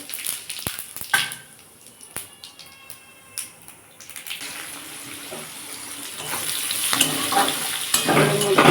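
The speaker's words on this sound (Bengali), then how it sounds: "এর মধ্যে একটু শুকনো লঙ্কা আর সাদা জিরে ফোড়ন দেবো" Dried red chillies and cumin seeds hit hot oil for tempering: a few scattered clicks and taps at first, then a sizzle that swells and grows steadily louder and crackly toward the end.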